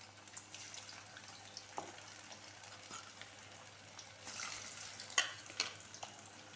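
Chicken pakora frying in a kadhai gives off a soft, continuous sizzle at low volume, with a couple of brief clinks near the end.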